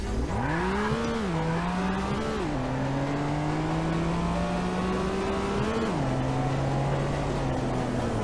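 In the racing game Street Legal Racing Redline, a Dodge Ram pickup fitted with a Viper V10 engine revs and climbs through gears, its loud steady engine note rising, dropping at shifts and rising again.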